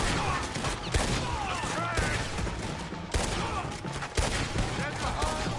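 Sustained gunfire from a Red Dead Redemption 2 shootout, a dense fusillade of overlapping rifle and pistol shots with sharp cracks near the 1, 3 and 4 second marks, loud and continuous over game ambience with voices underneath.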